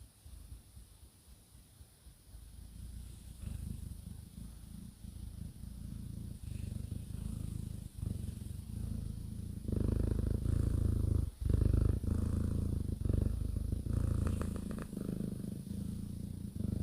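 A cat purring close to the microphone, a continuous low rumbling drone that swells louder partway through and keeps a steady rhythmic pulse.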